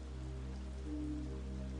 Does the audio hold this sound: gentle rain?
yes